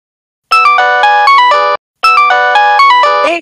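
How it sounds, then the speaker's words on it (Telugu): A loud electronic phone ringtone plays a bright, bell-like melodic phrase twice in a row, close and clear with a short gap between the repeats. "మా ఆవిడ ఫోన్ చేస్తున్నాడు"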